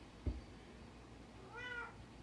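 A house cat gives a single short meow in a quiet room, preceded by a faint soft bump, with a low steady background hiss.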